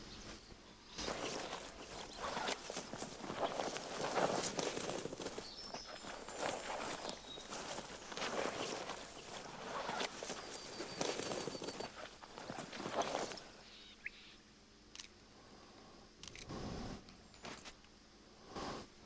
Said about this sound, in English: We're still hearing footsteps.